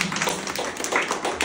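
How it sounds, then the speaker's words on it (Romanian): Wedding-anniversary crowd in a Moldovan village clapping for a couple married thirty years: steady, dense applause throughout, fairly close, with no talk over it. "Așa, aplauze."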